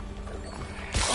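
An Accio summoning spell is cast in Hogwarts Legacy: a low, whirring, mechanical-sounding effect ends in an abrupt louder burst, with no talking.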